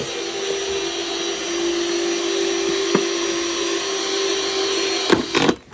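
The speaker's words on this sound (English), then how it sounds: "I'm drilling holes in the bottom of a milk jug." A steady, close mechanical whine runs throughout as a small drill bores holes in the bottom of a plastic milk jug, with a brief change in pitch near the end as it slows.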